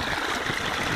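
Stream water flows steadily around a low-head hydraulic ram pump on a farm, the creek running deep after heavy rain, a constant close broadband rush with no voices.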